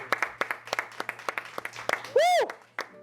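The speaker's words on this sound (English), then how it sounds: "Let's clap it up for ourselves." Sparse clapping from a few people during a podcast recording, with irregular sharp claps close to the mic, followed by a rising and falling whoop.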